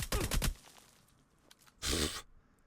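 A submachine gun fires in a video game: a short, loud automatic burst, a quiet pause, then a second rapid burst near the end.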